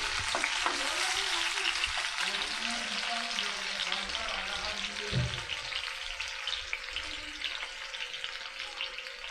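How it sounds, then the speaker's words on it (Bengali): Food frying in a pan during a live recipe show, a loud, continuous sizzle close up, with stirring and scraping along the way. "আমরা একটু সময় ভেজে নেব ওটা।"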